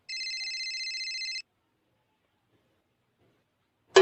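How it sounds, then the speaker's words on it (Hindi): A phone ringtone trills in a rapid, even electronic pulse for over a second, then stops; silence follows until a short click at the end. "अरे मिथुन भाई के फोन आ।"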